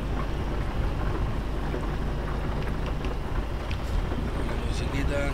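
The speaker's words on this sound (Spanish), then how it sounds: "Y lloviendo, señor, se metió el invierno." Steady rain drums on a truck in a driving video game, a dense continuous hiss with faint rumbling underneath, loud and unbroken throughout.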